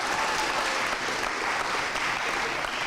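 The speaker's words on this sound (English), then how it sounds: "Let's give a round of applause for yourselves." Audience applause fills a university honors convocation hall, a steady, dense wash of many hands clapping at an even level throughout, with no voices standing out.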